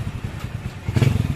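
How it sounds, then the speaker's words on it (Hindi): Hero Splendor Plus BS6 motorcycle engine idling in gear with the clutch pulled, a steady close low thrumming chug that swells louder toward the end. "बाइक स्टार्ट है। आप इंजन की साउंड सुन सकते हैं"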